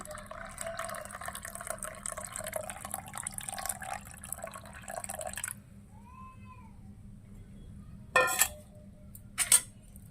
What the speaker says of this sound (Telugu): ఇప్పుడు ఈ చింతపండు పులుసు ఇందులో వేసుకోవాలండి